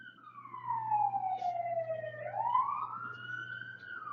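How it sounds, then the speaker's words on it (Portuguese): An ambulance siren wails in a continuous falling then rising sweep, loud and steady over a low engine hum as the vehicle passes along a street. "E a ambulância passa."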